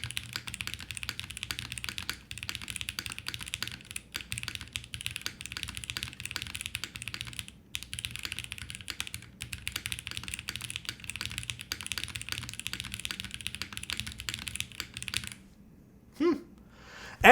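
Someone types steadily on a wide Bluetooth mechanical computer keyboard with no desk pad, producing a dense, fast stream of close clacky keystrokes, ending with a few scattered knocks.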